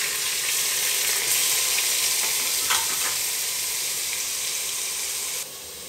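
Bottle gourd (lauki) pieces tip into a pan of hot oil with cumin and fry with a loud, steady hiss that carries on for several seconds, with small stirring scrapes and no voices.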